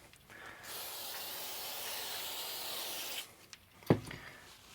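Contact cleaner hisses from a spray can in one continuous burst of about three seconds onto the carbon-printed keyboard contacts of a flood-damaged Commodore 64C, followed by a couple of soft handling knocks.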